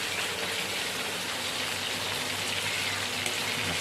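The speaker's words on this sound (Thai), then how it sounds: "บรรยากาศของฝนตก" Steady rain falling, a constant soft hiss with scattered drips, no voices.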